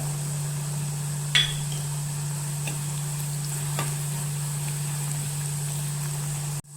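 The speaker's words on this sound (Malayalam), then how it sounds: "പച്ചമണം മാറുന്നിടം വരെ ഒന്ന് ഇളക്കി കൊടുക്കുക" Garlic, ginger and curry leaves frying in a clay pot give a soft, steady sizzle with a few sharp stirring taps, all under a constant electrical hum.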